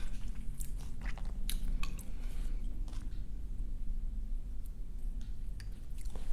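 Close, crisp crunching and chewing of kimchi during a Korean boiled pork wrap eating session, with steady wet bites and mastication over a low background hum.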